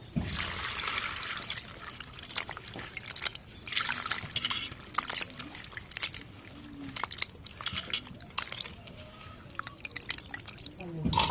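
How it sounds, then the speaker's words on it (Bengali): Cut puti fish are washed by hand in water. Splashing, dripping and trickling come in bursts with small knocks, close by. "মাছগুলো এখন ধুয়ে নেই"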